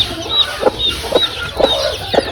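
Native country hen clucking up close, a series of short rhythmic clucks roughly every half second, mixed with faint higher chirps, likely from chicks, against a quiet background.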